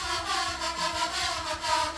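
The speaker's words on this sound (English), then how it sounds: "Just let me play that sound without the filter and without the automation." A continuous synth sound in Doom Eternal style plays with no filter and no automation. It is a dense, buzzing, noisy tone that holds steady for two seconds, with a faint pulsing in the lows, and no voices are heard.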